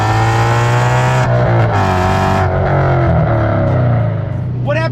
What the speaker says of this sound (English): put a snarling, screaming, thunderous V8 under the hood